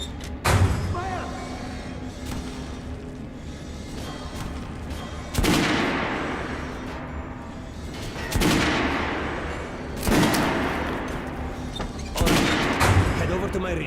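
Rifle shots ring out at a shooting range in Metro Redux, several loud reverberant bangs spaced a few seconds apart, each trailing off into a long decay, with voices speaking between them.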